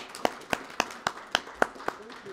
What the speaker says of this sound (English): Can we have another round of applause for Russell?